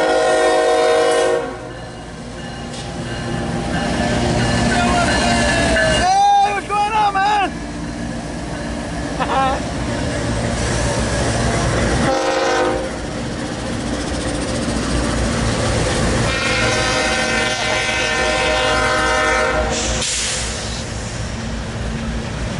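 A CSX mixed freight train rolls past with a steady heavy rumble of engines and wagons, and its horn sounds in several loud blasts early on. A voice is also heard.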